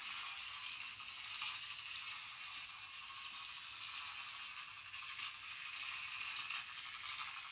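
A small 3D-printed toy train powered by a vape battery runs around its track with no carriages attached, producing a continuous close mechanical whirring and fine clicking rattle of gears at an even pace, with no voices.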